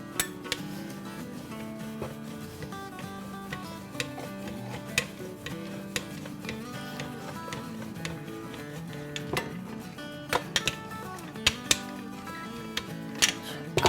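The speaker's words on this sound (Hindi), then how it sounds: "तो चले हम बेलना शुरू करते हैं" Naan dough being rolled out with a rolling pin on a board, with rapid clicking taps and knocks ticking steadily over a low background hum for a long stretch, no talk.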